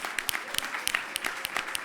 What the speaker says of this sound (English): So all of us give her a round of applause for that.